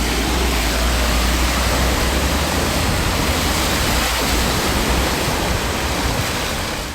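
Heavy rain pours down in Ooty, with floodwater pooling under a railway bridge. It makes a loud, continuous, even hiss and roar that fills the scene with no letup.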